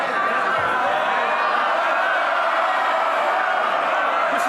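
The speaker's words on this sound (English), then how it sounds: "They're cheering and laughing because they love this" MPs in the House of Commons chamber cheer and laugh in a sustained rumbling clamour of many voices, with a speaker talking over the noise.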